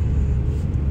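A car climbs a mountain ghat road near Quriyat in Oman, heard from inside as a steady low engine and road rumble over one short second.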